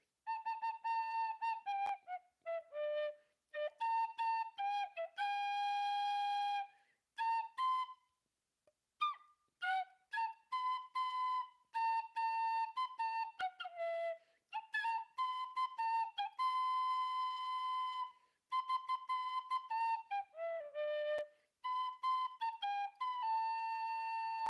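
An Irish tin whistle plays an improvised, halting version of a theme song, a clear, breathy melody of short and held notes with brief pauses, close and solo.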